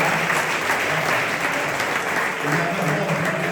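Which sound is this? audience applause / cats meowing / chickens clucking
audience applause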